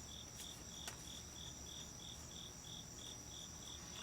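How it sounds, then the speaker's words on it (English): Crickets chirp in a steady, evenly spaced pulse, a thin high trill repeating about three times a second against quiet night ambience. "I hope you hear those crickets. There are crickets behind me, behind you."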